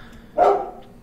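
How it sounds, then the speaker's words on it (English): A single short dog bark sounds from a video game, one sharp woof rising out of quiet background noise. "Oh, my dogs!"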